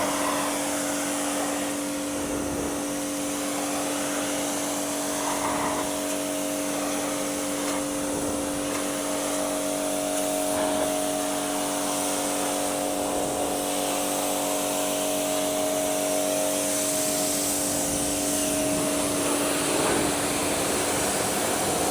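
A car is rinsed with water after being sprayed with YUM Citrus bug remover, a loud continuous hissing spray over a steady motor drone that lasts the whole time without pause.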